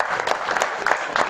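An audience applauds at a seminar held at a ward councillor's office in Moradabad, India, a dense, steady wash of many hands clapping close by, with faint voices underneath.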